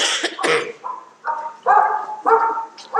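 Dogs bark in a quick run of short, loud barks and yips close by, the bursts bunching together and overlapping in an excited, uneven rhythm.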